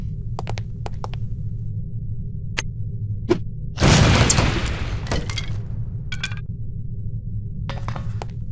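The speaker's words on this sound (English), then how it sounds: "These relatively inconspicuous-looking lipsticks are actually powerful explosive devices that detonate on impact." A lipstick explosive from No One Lives Forever detonates in a single loud blast that fades over about a second, set among scattered faint clinks and a low steady hum.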